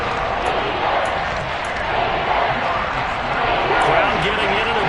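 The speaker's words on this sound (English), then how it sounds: "Crowd getting in it a bit already." Crowd at an American football game between the Patriots and Chiefs in a stadium makes a dense, steady roar throughout, loud and continuous, with a commentator talking over it.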